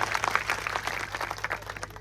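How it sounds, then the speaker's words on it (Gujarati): Audience applause at a political rally welcoming the local MLA, quick dense clapping at moderate loudness with a low steady hum beneath, lasting the whole moment. "એકવાર જોરદાર તાળીઓના ગણગણાટથી આપણે એનું સ્વાગત કરી લઈએ"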